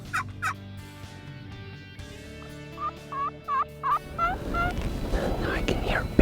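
A wild turkey tom gobbles and yelps in a series of sharp calls, then a rapid rattling gobble answers nearby over rustling wind, during a spring hunt.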